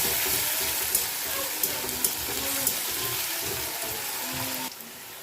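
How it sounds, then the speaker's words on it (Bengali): Onions frying in a pan for a Bengali potol vorta, a steady close sizzle with faint scrapes and light clinks running throughout before cutting off near the end. "তারপরে পেঁয়াজটা আমি ভাজতে শুরু করি"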